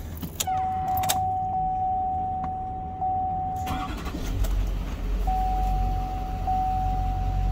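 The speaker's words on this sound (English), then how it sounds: "So let's start that up for you guys." A 2007 GMC Duramax diesel 4x4 ambulance cranks and fires up, settling into a steady low diesel idle, with a repeating electronic chime sounding before and after the start. Close and fairly loud, with no talking.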